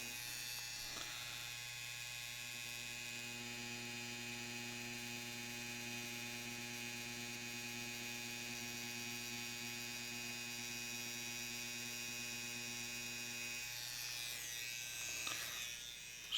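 A tattoo machine buzzes steadily and close for nearly the whole stretch while tattooing a mandala design, its electric hum changing pitch slightly partway through and easing off near the end.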